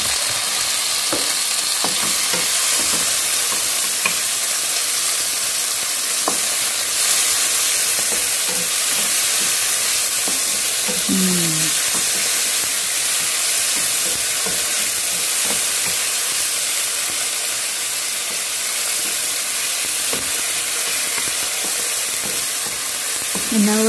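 Sliced tomato fries in a pan with a loud, dense, constant sizzle and hiss, broken by occasional soft utensil taps, close and continuous with no talk.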